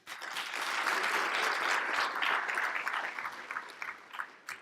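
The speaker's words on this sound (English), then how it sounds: "Give him a hand." Audience at the Urban League of the Central Carolinas Whitney M Young Gala applauding, a dense sustained wash of many hands that swells quickly, holds steady, then thins into scattered claps.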